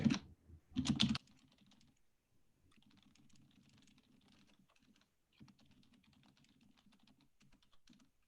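Notes typed on a computer keyboard in a quiet room: two loud clicks or thumps at the start, then soft, rapid key presses in uneven bursts.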